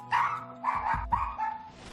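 An excited dachshund barks close by in a quick burst of three or four sharp, high yaps, the last trailing into a short whine.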